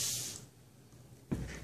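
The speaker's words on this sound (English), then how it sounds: "So I'm going to spray it" Water sprayed onto wool felt during felting, a brief hissing spray burst at the start, a quiet pause, then another spray burst near the end.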